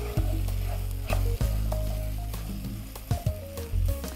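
Beef bourguignon with Paris mushrooms sizzling in a pan while being stirred: a steady loud frying hiss broken by scraping utensil strokes and clanks against the pan, close and without talk.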